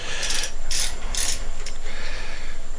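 A chuck tool is mounted into a machine and tightened with a manual wrench, giving a run of close metallic ratcheting and gear-like clicks in short bursts over a steady mechanical hum.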